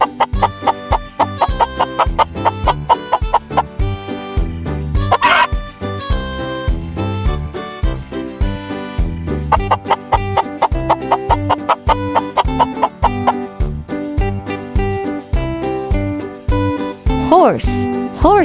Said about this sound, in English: chicken. Chicken makes the sound